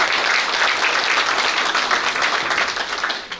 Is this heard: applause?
yes